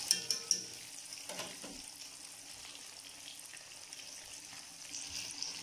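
Crispy fish fry sizzling in a pan, a quiet continuous frying hiss with a few sharp spatter pops at the start and faint stirring or turning sounds, close-up with no talk.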